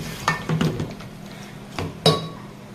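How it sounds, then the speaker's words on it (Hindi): Boiled beef for a green-masala beef karahi is fried and stirred in a pan, with a few clinks and scrapes of a utensil against metal, sharp knocks near the start and end over a faint background. "अब इसमें थोड़ा सा फ्राई करें ताकि गोश्त थोड़ा सा सख्त हो जाए"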